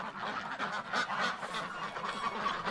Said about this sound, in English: That freaked the ducks right out.